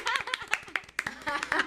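A few people clap in uneven bursts, close up, with brief chuckles and light laughter mixed in during a casual podcast conversation.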